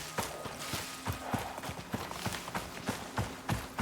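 Horse hooves clip-clop steadily in the survival video game ICARUS as a young horse walks. The evenly spaced, fairly close hoof strikes run through the whole stretch with no talking.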